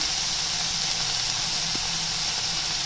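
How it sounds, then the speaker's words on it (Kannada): Fish eggs fry in a pan for bhurji, giving a steady, close sizzling hiss that stays even and continuous throughout, with no talking. "ಇಲ್ಲಿ ಸ್ವಲ್ಪ ಕಲರ್ ಅಲ್ಲಿವರೆಗೂ ಫ್ರೈ ಮಾಡ್ಕೊತಾ ಇದ್ದೀನಿ ನಾನು"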